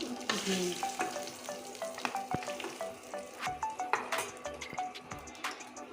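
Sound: fried fish heads poured into hot oil in a wok, sizzling

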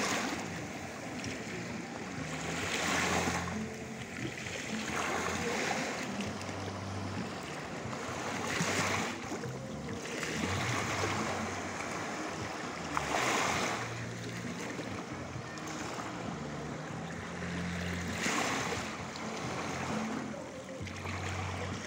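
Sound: Baltic Sea waves

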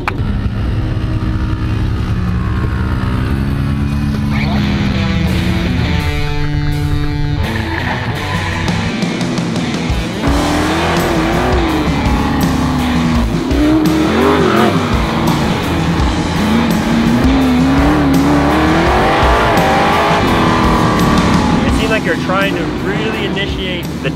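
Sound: sprint car driving, engine revving and tires skidding

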